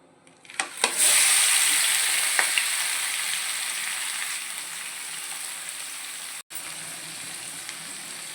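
Fish pieces go into hot oil in a kadai for an Odia-style curry, starting with a sharp splash and a loud burst of sizzling that settles into a steady, slowly fading frying hiss.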